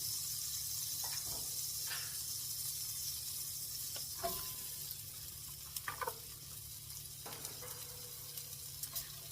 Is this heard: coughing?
no